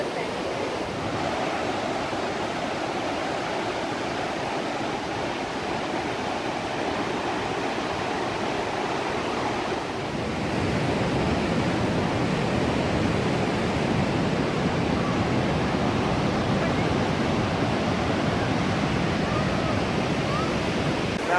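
Loud, continuous roar of the Niagara River rapids at the White Water Walk, broadband and steady, growing slightly heavier and closer partway through.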